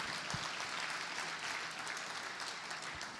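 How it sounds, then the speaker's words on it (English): Gala audience clapping after a live auction, a soft, even wash of applause heard from some distance, with a couple of low thumps mixed in. "So, round of applause, great live auction"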